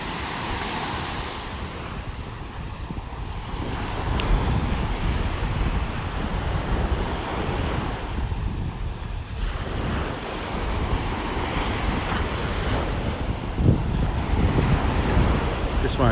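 Ocean surf rolls onto Vanderbilt Beach in North Naples, Florida, in a continuous loud wash of breaking waves with heavy wind buffeting the microphone, surging and easing over time.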